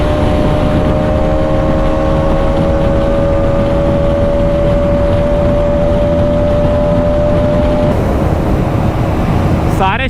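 KTM Duke and Yamaha R1M motorcycles in a drag race, a loud continuous engine drone with rising pitch and a shift partway through, heard close up under wind rush.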